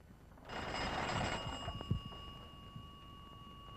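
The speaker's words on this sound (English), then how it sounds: "Melissa, would you get me the right honourable member for Wallaby Creek on the phone, please?" A telephone bell rings in one sustained, shrill metallic burst close by, with a few knocks and clatters as it fades, no voices present.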